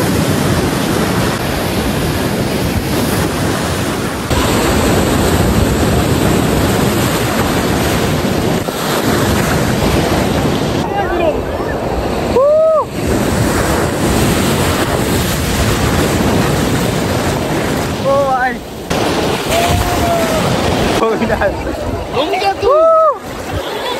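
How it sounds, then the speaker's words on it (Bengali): Sea waves roll and crash on Puri beach in a continuous loud roar with wind buffeting the microphone, while voices talk and call out over the surf. "চলো এখন নেমে পড়ি পুরীর সমুদ্র সৈকতে"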